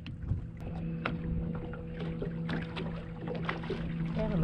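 A sailboat moving under sail alone at about 6 to 7 knots, with no motor: a steady rush of water and wind along the hull, with scattered faint knocks and splashes.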